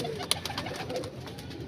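Malwai pigeons coo softly at night, low murmuring calls under faint background noise, with a couple of quick sharp clicks or wing flutters breaking in.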